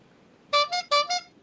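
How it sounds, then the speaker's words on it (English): A car horn honks twice, each a quick doubled beep, close and clear against near silence. "Let me give you a little honk"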